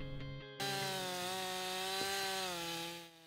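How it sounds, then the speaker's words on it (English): Chainsaws cut firewood at a volunteer community woodshed in Searsmont, Maine, a loud, steady, close engine whine that holds for a few seconds and then starts to fade. "Chainsaws ripping and roaring is the sound of volunteers at work at the Waldo County Woodshed in Searsmont."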